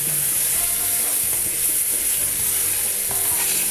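Continuous close sizzling of tomato paste frying in a pan, with soft stirring scrapes running throughout at a steady level.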